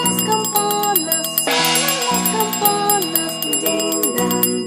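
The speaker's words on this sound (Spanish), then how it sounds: "Suenan las campanas, din dan don" Bright bell tones ring in a rhythmic pattern within a sung children's song, chiming repeatedly over melodic accompaniment and singing voices.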